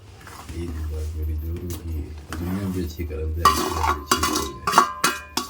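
Fried vermicelli (shavige) tipped into a pan with ghee and stirred while cooking sheer khurma, with metallic scraping and clinking of a utensil against the pan that grows louder in the second half, under a voice talking.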